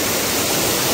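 Rushing water at Kurdkot waterfall in Deogarh, a steady broadband roar close by, constant and unbroken throughout with no voices.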